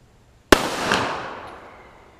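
A single loud gunshot from a high velocity round fired at a mailbox in a backyard cracks sharply, then rolls away in a long fading echo, with no talk.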